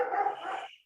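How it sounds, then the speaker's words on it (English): A wolf gives one short, fairly loud bark lasting under a second, close by and with no talking over it. "And you can listen to the barking wolf behind me."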